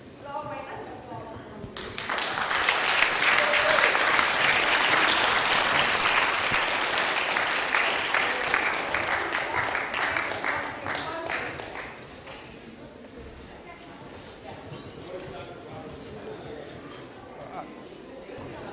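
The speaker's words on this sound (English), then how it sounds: "let's applause" A lecture audience bursts into loud, dense applause that swells quickly, holds for several seconds, then fades into scattered claps and murmuring chatter as the room settles.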